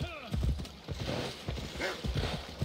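Horse hooves clip-clop in Assassin's Creed Odyssey, a steady run of repeated thuds mixed with a brief whinny and game ambience, fairly close and loud throughout.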